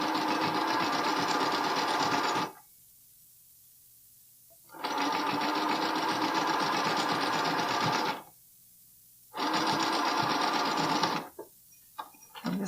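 A sewing machine top stitches a bralette seam in three sustained runs of steady, close-up whirring, each separated by a short pause, with a few faint clicks near the end.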